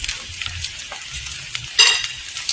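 Tuyo fried rice with scrambled egg being stirred in a pan, a steady close sizzle of frying under the scrape of a utensil, with a sharper scraping burst near the end.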